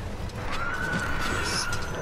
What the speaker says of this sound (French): il fait le bruit d'un cheval